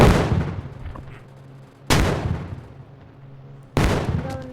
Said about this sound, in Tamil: மிசைல் அங்கே வெடிக்குது.